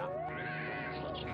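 A cat gives one drawn-out, wavering meow up close, clear and alone.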